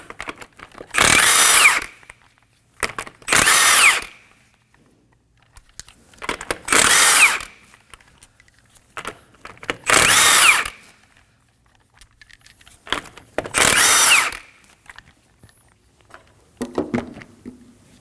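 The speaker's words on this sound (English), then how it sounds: "Using a 21mm socket, go ahead and remove the lug nuts." Lug nuts come off a 2011-2016 Kia Optima 2.4L wheel with a 21mm socket on a power tool. Six loud, close bursts of whirring sound, each about a second long, are separated by quiet gaps.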